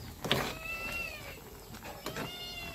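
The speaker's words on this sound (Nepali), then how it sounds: "यो बिरालो नि कहाँदेखि आएको" A cat meows in a home kitchen where chowmein is being cooked. Two or three drawn-out meows come through faintly over quiet background noise and soft clatter, with no one talking.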